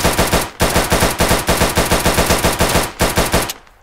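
Rapid machine-gun bursts from a Minecraft game, loud and close, firing in a steady rattling rhythm with a few brief gaps before cutting off at the end.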